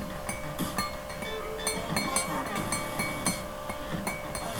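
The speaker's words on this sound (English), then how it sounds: "can hear that clinking, it's me stirring my cup of coffee" Metal spoon repeatedly clinking against a cup while stirring coffee late at night, a quick irregular series of light, bright taps over a steady background hum, fairly close.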